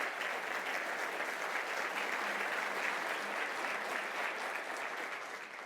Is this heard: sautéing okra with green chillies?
no